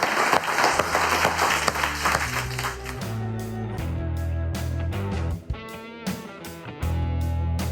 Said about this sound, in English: let's all just give ourselves a round of applause.